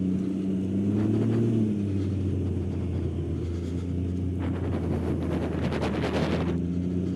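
Steady low engine rumble and wind buffeting from a 2019 Can-Am Ryker three-wheeled motorcycle on the move, droning continuously with a brief rise in revs partway through.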